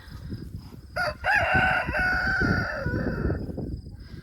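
A rooster crows loudly and close by in one long call, with softer clucking and farmyard noise around it.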